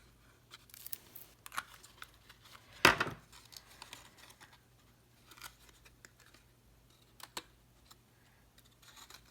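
Scissors snip the paperboard flaps of an embossed lidded craft box: quiet, scattered cuts with one louder, sharper snip midway, close by against a low hum.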